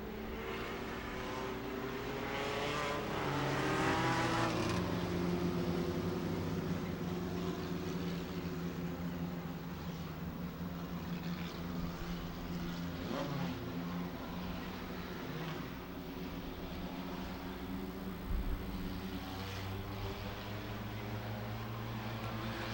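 Race cars at Rockford Speedway roar around the oval in a NASCAR American Short Trackers race, a steady, loud engine drone from the pack, swelling slightly as the cars pass, with no voices.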